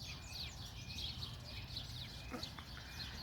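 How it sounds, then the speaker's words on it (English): Sparrows and ravens at a feeder, with quick high chirps and short calls scattered over a faint low background rumble, fairly quiet and from a small distance. "just looking at the little Chi Sparrows and the Ravens getting their food"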